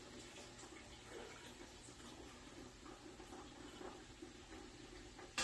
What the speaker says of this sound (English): I'll run it through the strainer into my 3-gallon pot.